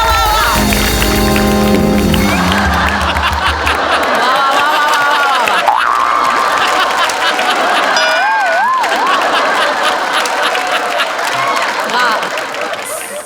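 An audience at a comedy festival awards show claps and cheers loudly for the javelin throw winner, while an announcer's voice and musical tones carry over the sustained applause, which fades slightly near the end.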